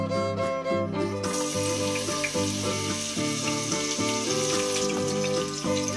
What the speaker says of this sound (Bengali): এই তেলের মধ্যে আমি কিছুটা রসুন কুচি, আদা কুচি আর লঙ্কা কুচি দিয়ে দেবো।